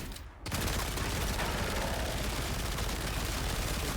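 Sustained rapid gunfire from a Warframe weapon emptying its whole magazine, a dense continuous burst that starts abruptly after a brief pause and stays loud and close throughout.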